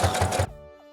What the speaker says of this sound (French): je vais venir coudre ça tout le tour